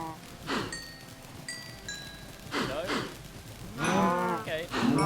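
Several video game cows moo one after another, low drawn-out calls overlapping at close range, with faint chiming tones in the background.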